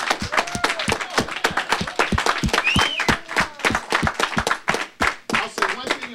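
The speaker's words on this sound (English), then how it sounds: "So let's all give him a round of applause." Seminar audience applause, close and lively, a stream of distinct claps from a modest crowd lasting several seconds, with a few voices calling out over it.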